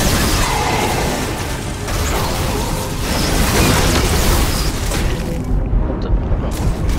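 Rocket explosions in Marvel Powers United VR boom constantly, a loud, dense, distorted barrage that fills the whole clip with barely a break.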